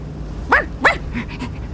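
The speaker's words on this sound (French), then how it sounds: "C'est le chien." A dog barks twice in quick succession, then gives a couple of softer yips, against a low background hum.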